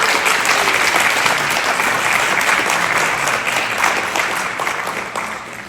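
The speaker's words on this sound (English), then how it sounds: "So first, a round of applause to all of you." An indoor audience at a National Honor Society induction ceremony applauds parents and families, with steady, dense clapping from a large crowd that holds strong throughout and only slightly fades toward the end.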